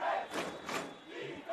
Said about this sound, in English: the crowd really getting behind the team here right underneath our commentary position here